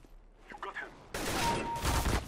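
Gunfire bursts in the video game CS:GO, a loud sustained volley of shots breaking in after quiet murmuring voices, continuing to the end.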